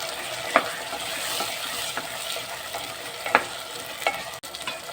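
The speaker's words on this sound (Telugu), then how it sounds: "ఇప్పుడు ఇందులో టమాటాలు తరిగి పెట్టుకున్న మూడు టమాటాలు పెద్దవి చిన్నవి అయితే నాలుగు వేసుకోవచ్చు ఇవి కూడా బాగా మగ్గించాలి" Three chopped tomatoes cooking down in a pan of masala curry with potato and spinach, giving a steady close sizzle with periodic scraping stirs and a few sharp clinks of the spoon.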